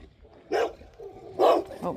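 Dogs bark in a garden, two loud bursts of barking a second apart with a softer yip after, fairly close and otherwise quiet.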